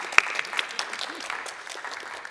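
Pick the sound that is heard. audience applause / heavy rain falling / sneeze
audience applause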